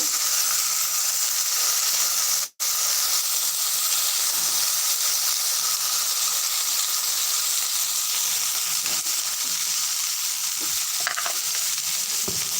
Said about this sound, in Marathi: आपली गवारची शेंग टाकते तिला थोडीशी फ्राय करून घेणार आहोत